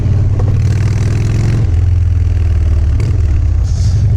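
Harley-Davidson Dyna Fat Bob motorcycle engine running loud and close, a deep throbbing idle with a rev around the midpoint and another blip near the end.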